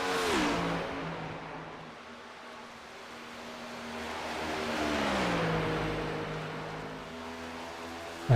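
A stock car engine, the 48 machine, on Legacy Atlanta in a NAOR Cup Series sim racing game: a steady, fairly loud drone whose pitch sweeps up and down with the revs, heard alone with no talk.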